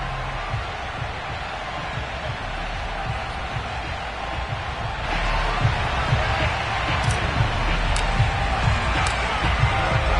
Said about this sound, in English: they love their football in this part of the country, and this crowd is ready to go